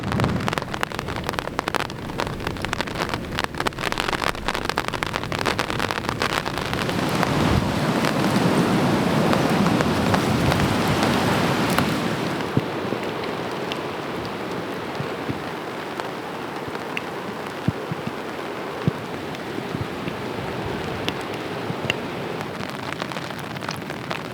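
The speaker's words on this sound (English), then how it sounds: "a decent drizzle has kind of set in" Storm rain falls steadily on a bush shelter in the Australian wild, a broad continuous hiss that swells louder midway and then eases to a softer drizzle with scattered drip taps, no voices.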